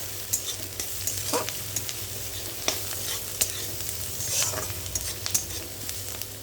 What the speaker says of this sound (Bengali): হালকা করে ভাজা ভাজা করে নিতে হবে।